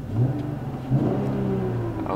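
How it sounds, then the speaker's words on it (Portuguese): A Dodge Challenger SXT muscle car engine starts and revs twice in quick succession over a low, steady rumble, close and fairly loud. "deixa eu ver se dá para vocês ouvirem o barulho do motor"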